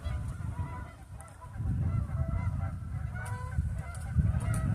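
Geese honk in repeated nasal calls, several overlapping bursts at moderate distance, over a low background rumble.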